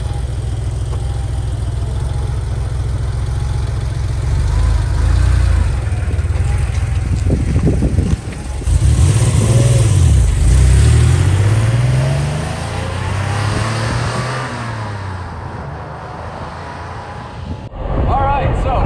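1988 Porsche 911 Carrera 3.2 Cabriolet engine idling with a low, steady rumble, then blipped through several sharp revs that rise and fall, with people talking over it.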